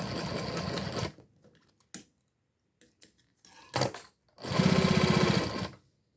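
A sewing machine stitches a plastic magazine folder with a leatherette edge, with a short burst of stitching, a pause with small clicks, then a second loud, close run of rapid stitching.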